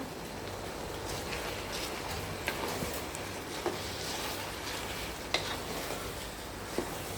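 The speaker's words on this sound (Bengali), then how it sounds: "সব একসাথে ভালো করে তেলে একটু ভেজে নেব।" Washed rice and lentils fry in oil alongside chicken for bhuna khichuri, a soft continuous sizzle with a few sharp spoon clicks against the pot, fairly quiet and close, without speech.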